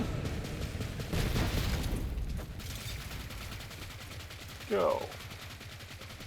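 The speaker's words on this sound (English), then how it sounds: "This guy's trying to shoot me." Enemy gunfire in the shooter Borderlands 3, rapid bursts of automatic fire and shots crackling through a busy battle mix, with a louder burst near the start and a short spoken word partway through.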